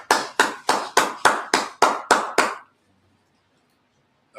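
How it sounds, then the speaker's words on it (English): Nine sharp hand claps in an even, quick rhythm, loud and close, then silence. "You clap it up."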